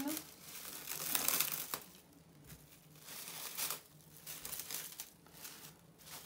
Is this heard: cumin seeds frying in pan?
no